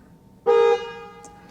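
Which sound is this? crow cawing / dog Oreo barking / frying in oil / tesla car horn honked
tesla car horn honked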